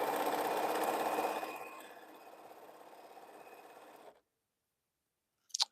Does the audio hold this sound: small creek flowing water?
no